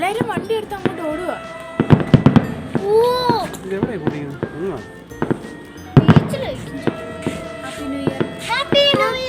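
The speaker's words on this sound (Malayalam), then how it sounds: "ബോംബ് പൊട്ടല്ല, പടക്കം പൊട്ടുക." Fireworks and firecrackers burst repeatedly at a New Year celebration near a villa, sharp cracks and pops scattered irregularly, some close and loud, with whistling rockets and excited voices talking and calling between the blasts.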